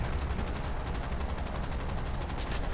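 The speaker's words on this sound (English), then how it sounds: "I'm not the best shot with MGs on turret control, as you can see" Lancaster bomber turret machine guns fire in a realistic air battle game, a dense continuous rattle of rapid shots at steady loudness throughout, with no talking.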